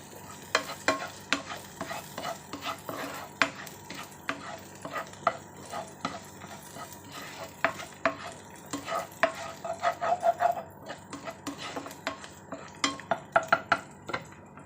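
Shrimp stir-frying in a pan, with a utensil clattering against the metal in quick, irregular scrapes and taps over a faint sizzle, close and fairly quiet with no voices.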